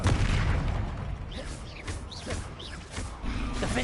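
Confringo fire-blast spell cast in a Hogwarts Legacy battle against a troll: a series of sharp bursts and crackling whooshes over a dense, rumbling background of combat noise, fairly loud throughout.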